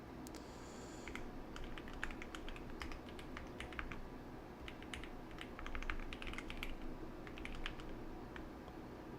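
Rapid, irregular keystrokes on a computer keyboard during a coding practice session, close and clear, running continuously over a steady low background hum.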